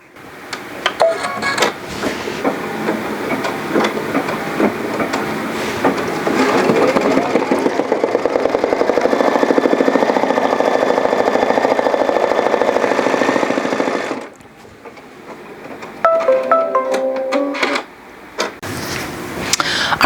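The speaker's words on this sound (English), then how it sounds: "Now we're going to go back to the machine and secure stitch this window." Sewing machine running steadily while it secure-stitches a window in a felt bandage design, a dense, loud mechanical whir. The machine stops briefly, then runs again in short bursts.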